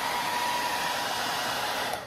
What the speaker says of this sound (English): I actually never used a blow dryer, so this would be a first time.